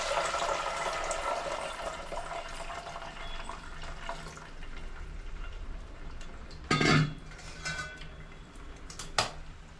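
Chicken stock pours into a cooking pot for Kolhapuri chicken pandhara rassa, a steady watery rush with a couple of brief metallic clinks from the pot near the end.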